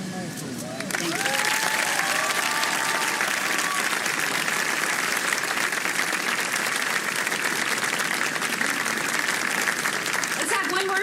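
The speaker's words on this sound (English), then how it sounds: "Let's have one more big round of applause for our very first Disney Ambassador, Julie Reihm Casaletto." An audience at a Disneyland ambassador ceremony bursts into loud, sustained applause after a brief spoken moment, with clapping and crowd cheers filling the rest continuously.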